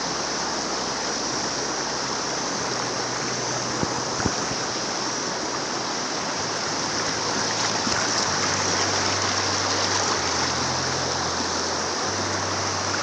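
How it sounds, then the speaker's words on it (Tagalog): Strong current of the Dumang-Ginya River in Palawan rushing steadily, a loud, continuous, close roar of churning water that barely varies, with no voices. "Malakas yung agos oh."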